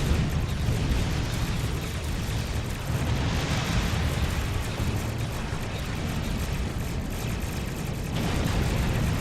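Ships open fire in a Star Trek Online space battle, a dense, loud and continuous roar of weapons fire and rumbling explosions that keeps going without a break.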